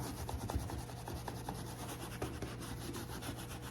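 Hands scrub a surface with steady, vigorous back-and-forth rubbing. The rhythmic scratchy strokes sound close and continue without pause.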